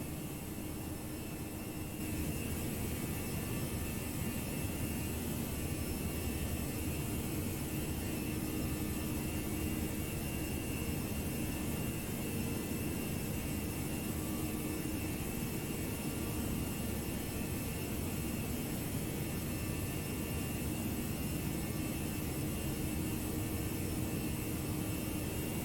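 Steady, loud jet roar from the engines of a simulated ToLiss Airbus A319 at climb thrust in the X-Plane 11 flight simulator, a constant broadband whine with no speech.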